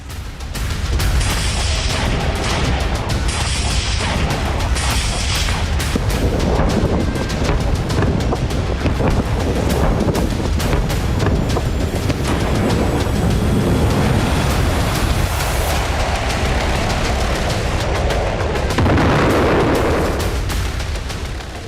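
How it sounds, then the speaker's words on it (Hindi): Heavy, continuous roar of bombardment over Beirut, with loud booms and rumbling blasts merging into a dense, wind-buffeted wash of noise that never lets up. "बेरूत पर बरसे बम"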